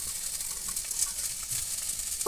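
Small fried fish going into a pan of green tomato and potato curry, a steady close sizzle of frying in oil filling the whole stretch with no voices.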